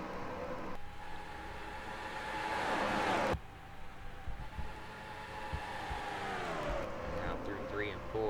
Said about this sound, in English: They are roaring down the backstretch for the first time here today.